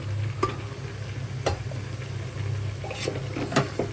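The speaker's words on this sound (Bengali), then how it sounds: "এখন লাউগুলি ঢেলে দিব" Bottle gourd pieces go into a hot pressure cooker and are stirred, giving a soft sizzle under a low hum, broken by a few sharp spoon clicks against the metal pot.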